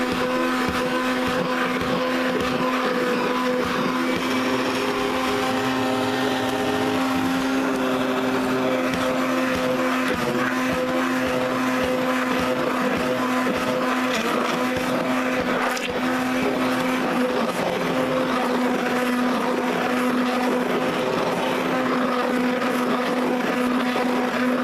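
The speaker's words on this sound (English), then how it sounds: "I always like to blend goat's milk with a stick blender" A stick blender blending goat's milk whirs steadily and continuously, a loud motor hum with a fixed pitch running throughout.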